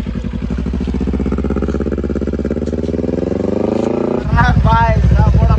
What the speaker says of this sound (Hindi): first time full fairing bike चला रहा हूँ, वो भी निंजा 250R भाई, चला कर दिखा